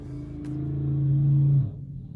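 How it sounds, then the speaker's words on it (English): Ford Mustang with loud aftermarket exhaust revving nearby, a deep rumbling drone that swells steadily for over a second and then drops off abruptly as the throttle is released. "I think that's the neighbor with the Mustang. That boy got some pipes on that car"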